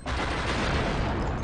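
Rapid video game gunfire bursts in a dense, loud rattle lasting barely over a second.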